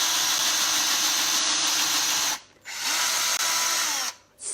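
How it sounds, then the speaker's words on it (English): An electric drill bores a hole through a book in loud, steady bursts of whining, with two short pauses between runs. "And I've just drilled a hole."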